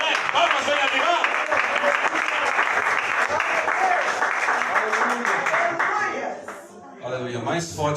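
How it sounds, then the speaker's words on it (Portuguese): A church congregation at a family service applauds loudly to welcome a preacher, dense sustained clapping from a large crowd that fades near the end as a voice speaks over it. "Recebemos um homem de Deus com palmas bem fortes"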